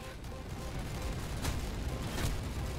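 Dense sci-fi weapon barrage from Spacelords gameplay on PC, a continuous roar of rapid fire with a couple of brighter bursts where an explosion breaks through, loud and sustained throughout.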